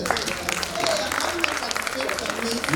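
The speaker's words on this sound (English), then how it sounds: "Let's just give them a round of applause." Panel session audience gives a round of applause, a steady moderate clapping with crowd murmur and some voices underneath.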